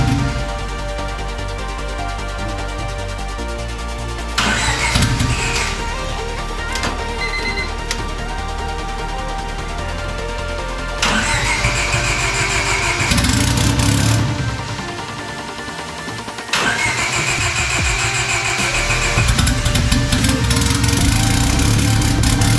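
A turbocharged Honda D16Y8 engine cranks, catches and runs roughly, its rumbling idle shifting and surging unevenly across several sections, loud and close, without speech.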